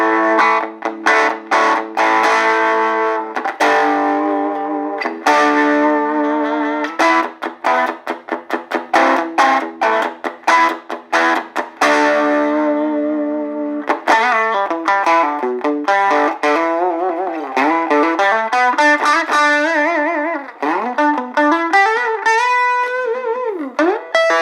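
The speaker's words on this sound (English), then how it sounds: "let's try the drive setting, which should have the distortion." Donner DST-80 electric guitar on its drive setting with the bridge pickup, playing loud, distorted chords and single-note runs with bends, continuous and close with no talking.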